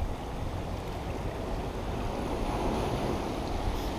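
Ocean waves at a rocky coastal shore with the tide coming in, a steady broad roar of surf and wash mixed with wind buffeting the microphone, continuous and fairly loud with no talking.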